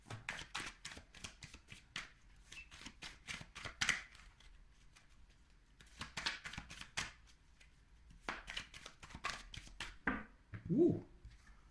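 Tarot cards being shuffled in rapid riffling bursts, three long runs of quick crisp flicks separated by brief pauses, close and soft, with no talking.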